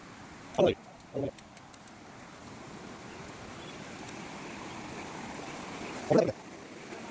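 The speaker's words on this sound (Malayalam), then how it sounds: "നമ്മൾ താഴെ കണ്ട വെള്ളച്ചാട്ടം ഇത് അതിൻ്റെ അടുത്ത് അതിന് തൊട്ട് മുകളിലുള്ള വേറൊരു വെള്ളച്ചാട്ടമാണ്" An upper waterfall just above another cascade: a soft, continuous rush of falling water, broken by a few short bursts of voices.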